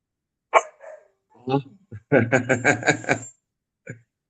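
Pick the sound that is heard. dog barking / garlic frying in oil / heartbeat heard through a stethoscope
dog barking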